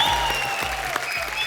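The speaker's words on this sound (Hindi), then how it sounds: "एक बार जोरदार तालियां" A brief burst of studio audience applause on a TV comedy show, dense clapping heard at close range with a tonal ring underneath.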